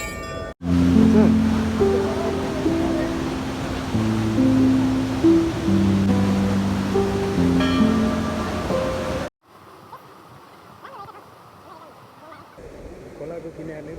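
Sundarijal river flowing beside a temple, a loud, continuous broadband rush of water with someone talking over it and tonal sounds, cutting abruptly to a quieter, more distant flow near the end.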